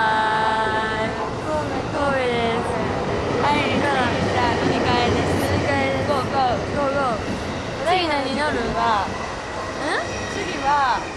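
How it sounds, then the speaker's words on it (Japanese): A train pulling away from Kobe station with rumbling wheels and screeching, whining rail tones over continuous station noise, with people talking throughout. "電車も行っちゃいました"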